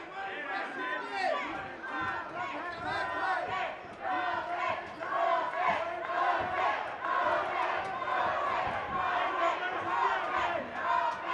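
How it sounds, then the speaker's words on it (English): Fans at a boxing fight night crowd-cheer and shout for Milton Roque during a four-round bout, a steady roar of chatter and yells with a commentator talking over it throughout. "Roque's cheering section, letting him know they're in attendance"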